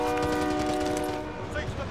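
A steady train rumble with sustained horn-like tones carries through, mixed with rattling clatter and faint voices beneath, in the video game Call of Duty: Modern Warfare.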